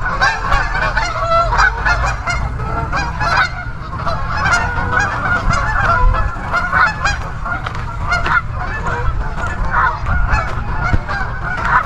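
A large flock of Canada geese at a lake keeps up nearby honking, many overlapping calls in an uneven, ongoing din lasting several seconds without pause.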